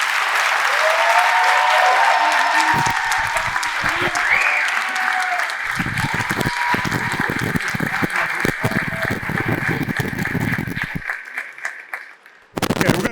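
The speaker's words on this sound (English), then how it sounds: "So another round of applause." A high school spring concert audience gives a jazz band a dense burst of clapping that gradually thins and fades over several seconds, heard from within the crowd, ending with a brief louder clatter.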